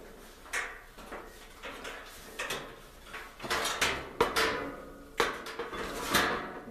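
Panel on a Whirlpool clothes dryer being pulled up and moved aside during repair, producing a series of close clunks, scrapes and metallic knocks in irregular rhythm.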